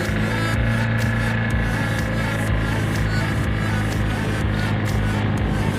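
A Ligier JS50 microcar accelerates with a constant loud mechanical drone and hum from inside the cabin, steady and unbroken throughout.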